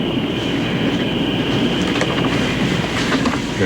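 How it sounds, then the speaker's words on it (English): A passenger train pulls away from a station, steady loud rumble of wheels and carriages with faint clicking and a thin high squeal riding on top, continuous throughout with no voices. "Well, it's the last train."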